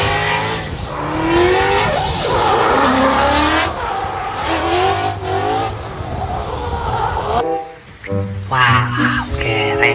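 A toy race car drives and skids, giving loud whining engine tones with squealing tire-like skids that rise and fall over ten seconds, with a brief dip near the end.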